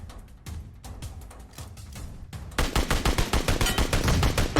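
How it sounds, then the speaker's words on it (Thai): SKS rifle fire in PUBG Mobile: a few sparse shots at first, then a dense, loud run of rapid rhythmic gunshots filling the second half, with no talk. "ยิงโดนหัวครับเมื่อกี้"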